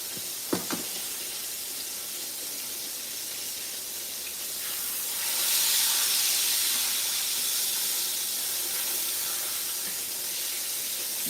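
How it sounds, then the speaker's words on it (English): Pork chops frying on high heat in a pot for a collard greens and cabbage meal, a loud continuous hiss and sizzle that swells partway through, with a couple of light knocks near the start and no talking. "I fry my pork chop."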